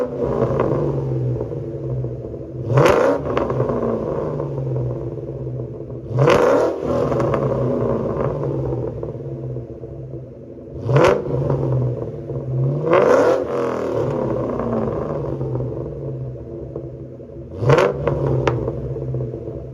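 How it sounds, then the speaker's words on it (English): A warmed-up Ford Mustang engine idles with a deep, steady rumble, broken by five sharp throttle blips that rev it up briefly before it settles back, heard close and loud. "Since it's warmed up, we might as well have a few revs before I put it away"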